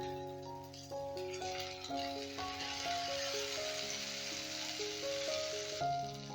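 Pointed gourd omelette frying in oil in a pan, a steady broad sizzle running throughout beneath sustained background music tones.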